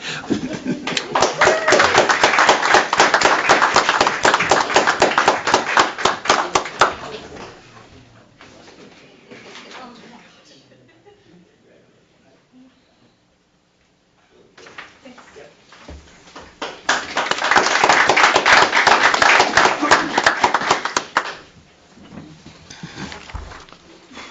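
At a county board of commissioners meeting, the audience claps loudly for environmental health inspectors in two strong bursts of applause, separated by a quieter stretch of murmuring and near silence.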